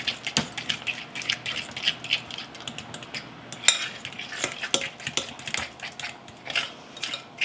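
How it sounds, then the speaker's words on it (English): Honey being stirred into apple muffin batter in a bowl, a steady run of soft wet scraping and clinking of a utensil against the bowl, close and moderately quiet with no talking. "Good old honey. I'm going to mix that up."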